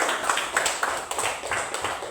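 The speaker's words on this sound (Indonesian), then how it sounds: "beri tepuk tangan" A class of students clapping their hands together in a classroom, brisk uneven applause filling the whole moment at close range.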